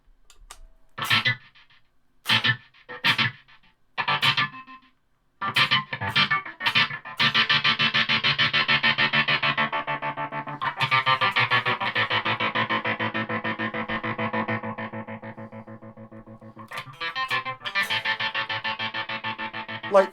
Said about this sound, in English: Heavy tremolo.